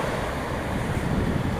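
Calm sea waves wash onto the beach at Alligator Pond, a steady broadband surf roar mixed with wind noise on the microphone, continuous and fairly close with no voices.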